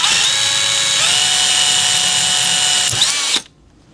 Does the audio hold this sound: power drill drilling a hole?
yes